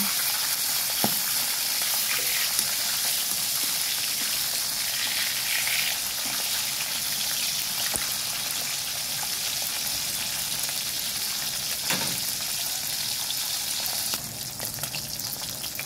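Already-cooked breakfast food reheating in a pan, a loud continuous sizzle and crackle close by with occasional stirring scrapes, no voices.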